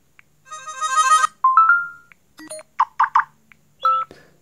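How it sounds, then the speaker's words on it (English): Notification tones previewed on an LG Fiesta LTE phone: a string of short electronic chimes and beeps in separate bursts, clear and close, with silence between them and no talk. "And then set up the notification sound."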